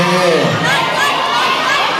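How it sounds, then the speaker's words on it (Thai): Loud, dense crowd cheering and shouting with applause at a press event with Thai artists, a continuous roar close by and voices calling out over it. "ขอเสียงปรบมือด้วยครับ"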